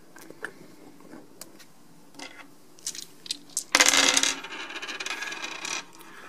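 Dice clatter and tumble during a board game, a few light clicks followed by a loud, dense rattling roll that settles over about two seconds.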